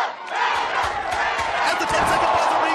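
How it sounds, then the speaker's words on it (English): A large fan crowd cheers and roars continuously for fighter Glenna at a night fight event, a loud, dense wall of voices with shouts rising and falling throughout. "you can hear them cheering on Glenna every step she takes"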